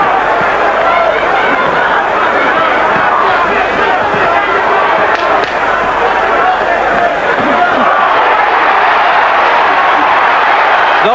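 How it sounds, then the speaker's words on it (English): A boxing arena crowd at a heavyweight fight, Riddick Bowe against Evander Holyfield, roars steadily and loudly for a punch, a dense sustained wall of cheering with a commentator talking over it. "they really cheer that punch"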